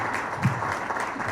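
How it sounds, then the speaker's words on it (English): Audience applause at a public talk on big projects and community impact in British Columbia, a brief steady wash of clapping from a crowd, moderately loud and even throughout. "So round of applause for getting this over the finish."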